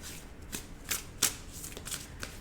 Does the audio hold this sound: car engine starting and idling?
no